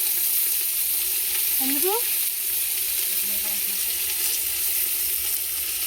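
Steady, loud sizzling of chicken biryani ingredients frying in a pot, with constant crackle and occasional scraping stirs. A brief voice speaks over it.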